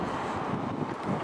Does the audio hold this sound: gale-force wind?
yes